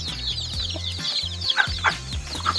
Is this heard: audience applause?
no